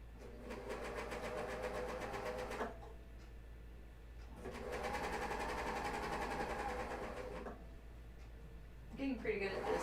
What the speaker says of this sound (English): I'm getting pretty good at this one-handed sewing